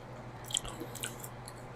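Someone chews a mouthful of homemade shrimp boil close up, with soft wet squishy bites in a short quiet burst and no talking.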